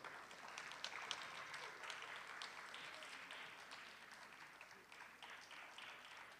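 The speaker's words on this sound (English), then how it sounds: "Please give a rousing applause." Audience applause at a community cultural event, a steady wash of clapping from a crowd that holds at an even level throughout without a break, heard fairly faint and at a distance.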